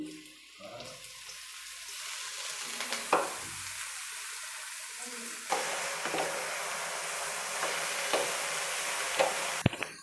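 Leafy greens (soppu) frying with onions in a pan for palya, a continuous close sizzle with bursts of stirring and a brief clatter, no voices.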